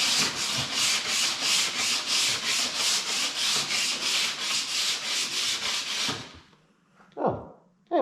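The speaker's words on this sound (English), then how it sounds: "And now you've caught me sanding, which I'll be doing for quite a while yet." Body filler on a Ford Fiesta quarter panel is hand-sanded with about sixteen steady back-and-forth rasping strokes, close and even, before stopping, followed by a couple of faint knocks.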